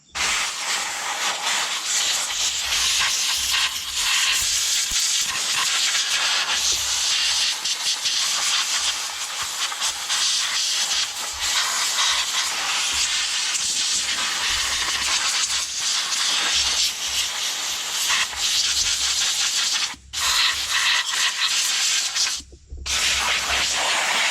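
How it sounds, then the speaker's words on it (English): Compressed air from an air gun blasts sawdust out of a chainsaw in a loud, close, continuous hiss that runs almost unbroken, with two brief cutoffs near the end. "take the air gun, blow it out"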